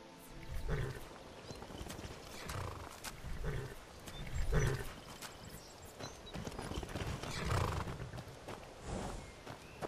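Horses at a stable in Skyrim, with repeated hoof clip-clops in loose bursts and a low snorting or roaring animal call among them, fairly close over a quiet game background.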